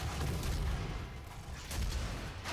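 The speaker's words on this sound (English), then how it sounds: "Oh yeah, I have a rocket launcher." Rocket launcher fire in DOOM comes as a dense, loud rumble of blasts and booms that fills the whole moment without pause, heavy in the low end.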